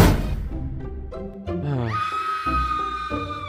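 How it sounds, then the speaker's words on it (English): A scream rings out from a vampire castle in Minecraft: a loud, high, wavering cry that rises after an opening rumble and holds steady, alone with no talk over it. "What was that scream?"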